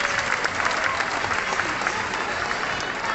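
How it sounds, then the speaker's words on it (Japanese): Steady applause from an audience at an outdoor dolphin show at the Okichan Theater, a dense wash of clapping that holds at even strength for the full three seconds with no voices on top. "皆様、ゴンちゃんへ大きな拍手をお願いします。"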